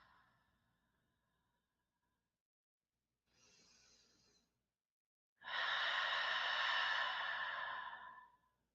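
A person exhales deeply through the mouth during a guided relaxation exercise, a short soft breath followed by a long, loud, airy sigh lasting about three seconds, close and alone.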